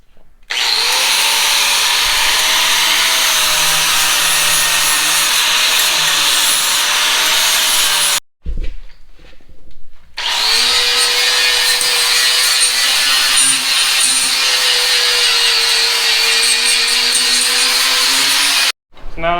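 An angle grinder strips paint from a steel rear bumper on a Chevrolet Blazer, a loud sustained whine that runs, cuts out briefly, then resumes, close up and dominating everything.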